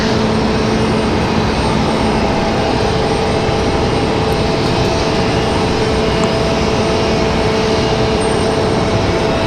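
An MD jet airliner departing Raleigh-Durham International Airport produces a loud, continuous engine roar with a sustained tonal whine, steady for the whole stretch and without any talking.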